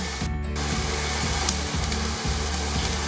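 Onion frying in a pan for a choucroute garnie, a steady close sizzle running unbroken under low rhythmic kitchen background noise, with no voices.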